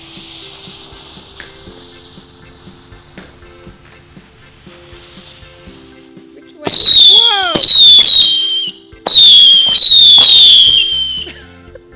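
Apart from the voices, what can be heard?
fireworks being set off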